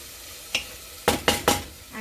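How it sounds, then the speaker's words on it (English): A spoon stirs garam masala and coriander powder into dhansak frying in a pan, giving one soft scrape and then three sharp, close scraping strokes over a low sizzle. "Mix it nicely."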